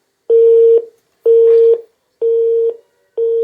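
Telephone busy tone cutting off a radio phone-in call: four steady, loud beeps of about half a second each, spaced evenly around a second apart, with no voices.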